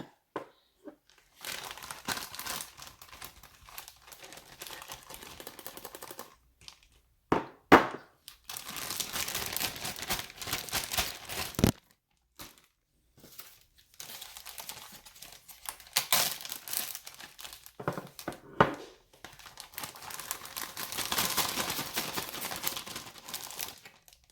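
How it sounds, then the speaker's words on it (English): A Ziploc bag holding banana and mango pieces being handled, with bursts of loud plastic crinkling and rustling broken by short pauses, close up and without speech. "I am going to keep in a Ziploc bag for 1 hour in the freezer."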